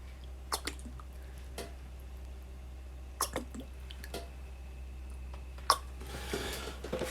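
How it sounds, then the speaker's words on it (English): Water drips in sparse, irregular plinks from the valves of a 1950 MG engine during a leak test, over a low steady hum, with a brief hiss of rushing water near the end. "the water will leak straight through where the plugs go."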